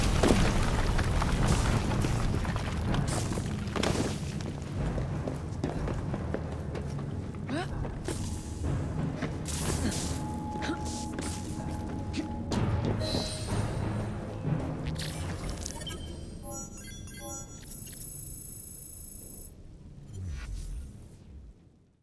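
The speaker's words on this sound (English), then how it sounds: "What was that explosion?" A dense, booming explosion from the video game Assassin's Creed Syndicate rumbles loud and sustained, with crashing debris and mechanical clatter that gradually thin out into lighter rattles and fade.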